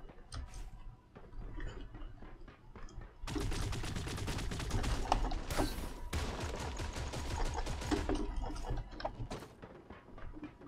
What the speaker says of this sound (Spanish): Alguien estaba disparando de atrás, pero no vi quién.